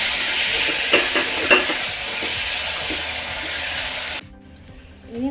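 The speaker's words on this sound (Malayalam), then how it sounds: "ഇനി നമുക്ക് തക്കാളി ഇടാം." Tomatoes sizzle and are stirred in a pan over browned onions for a raw banana curry, a loud, close, steady frying hiss with scraping strokes that stops abruptly, leaving only faint sounds.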